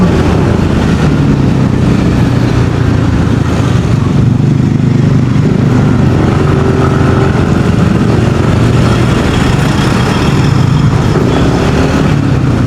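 An Angkas motorcycle taxi threads through city traffic, its engine droning loud and steady close by with a constant rumble and road roar, unbroken throughout.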